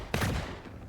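A single sharp burst of gunfire in the sci-fi shooter Earth From Another Sun, loud and close at the start, then a decaying rumbling tail with no talk over it.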